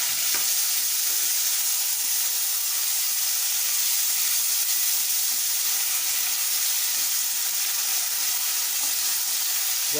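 Tomatoes frying with ginger garlic paste in a hot pan make a loud, constant sizzle and hiss throughout, with faint stirring and no speech.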